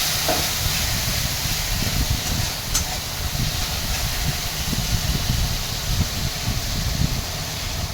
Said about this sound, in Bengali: মশলাটা ভালো করে কষিয়ে নেব যতক্ষণ না তেল ছাড়ছে মশলাটা থেকে।